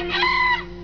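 A rooster crows in a short, strained burst inside a Sundanese song, its call rising and falling over a steady sustained instrumental drone.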